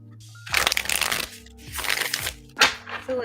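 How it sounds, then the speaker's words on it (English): Three quick riffling bursts of tarot cards being shuffled, close and crisp, with brief pauses between them and soft music underneath. "I'm going to do a big shuffle"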